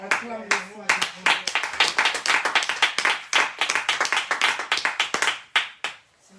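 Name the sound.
congregation applauding God in church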